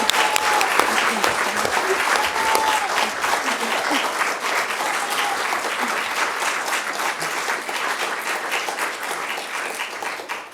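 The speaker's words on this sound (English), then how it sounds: "I think we need to give Martins another round of applause." Sustained, loud audience applause for a law lecturer at a university faculty inauguration, dense clapping holding steady for about ten seconds before tapering slightly, with faint murmurs beneath.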